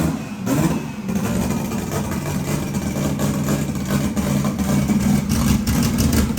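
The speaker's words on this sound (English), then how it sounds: "Got an S13 currently on the dyno." Nissan S13 engine running hard on a dyno at a Bangkok drag strip, a steady loud mid-pitched engine drone held near-continuously without clear rev peaks.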